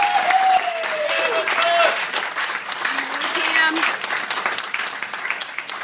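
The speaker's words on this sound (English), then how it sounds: "Please give her a round of applause." A room of guests gives a full, steady round of applause that carries through the whole stretch, with voices and a few calls rising briefly over the clapping.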